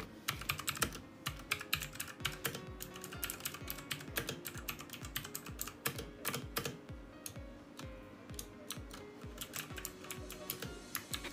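Keys on a G1000 mechanical keyboard from Aliexpress clatter in quick, uneven bursts of close clicks and clacks, a steady run of rapid presses heard alone without speech.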